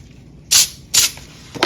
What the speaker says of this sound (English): I'm using the baking spray that I was talking about, and I'm gonna coat this pan really well.